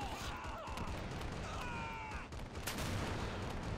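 Video game combat with continuous gunfire and RPG shots: a dense wash of distant shots and booms, including a whooshing rocket, steady throughout the short stretch.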